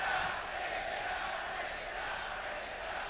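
Arena crowd at the ELEAGUE Boston 2018 Counter-Strike Major grand final, a steady, dense roar of many spectators filling the hall, constant in level with no single voice standing out.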